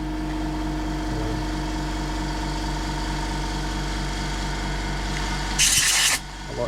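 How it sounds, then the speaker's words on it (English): A loud air compressor runs steadily beneath a low mechanical hum, then near the end a harsh burst of air blasts for about half a second as fluff is blown out of a Janome Memory Craft 3000 sewing machine. "Excuse the noise of the compressor."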